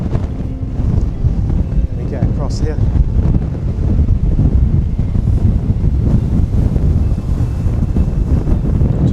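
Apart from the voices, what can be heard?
strong wind on microphone while crossing lock gates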